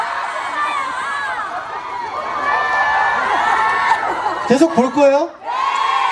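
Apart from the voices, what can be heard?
fan crowd cheering at butterfly festival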